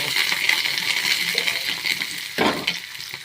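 Curry leaves dropped into hot oil after sautéed onions, giving a steady light sizzle and crackle with a sharp burst of spattering near the end, close by and without talk.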